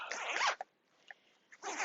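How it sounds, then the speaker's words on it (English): A zipper on a packing cube is pulled shut in two quick, close rasping strokes separated by a short pause with a faint click. "And so then you just zip it up."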